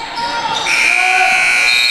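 Buzzer sounding the end of the first quarter in a girls' high school basketball game between Preston and Hedgesville, a loud sustained electronic tone ringing for about two seconds over gym noise.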